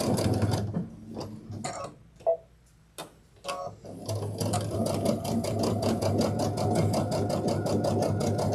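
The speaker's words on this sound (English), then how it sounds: "I'm just going to stitch these together with just a straight stitch" A sewing machine runs a straight stitch joining fabric pieces for a backpack, starting after a few handling clicks and thumps, then humming close with a rapid, even needle rhythm for several seconds.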